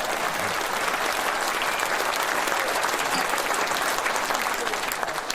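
At a Reform UK political conference in the East of England, the audience claps. The applause is dense and continuous, a steady wash of many hands at a moderate level from start to finish.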